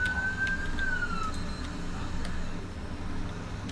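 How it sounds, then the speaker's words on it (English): Fire engine siren in GTA V, a rising then falling wail in the first second or so over a steady engine and traffic rumble, then fading under continuous road noise. "we've got to be a little bit more mindful of the use of the sirens"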